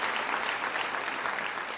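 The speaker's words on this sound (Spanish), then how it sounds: "Vamos a aplaudir todos juntos." A church congregation claps together in a sustained, dense burst of applause that fills the room at an even level.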